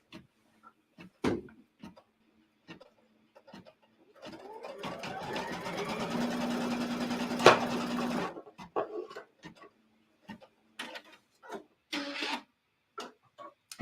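A sewing machine runs a stitch across the bottom of a Halloween quilt block in a steady whirring burst of about four seconds. Handling clicks and soft taps come before and after it.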